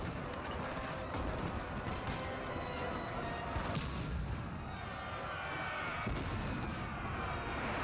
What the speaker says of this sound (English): Just hearing the sound of those cannons.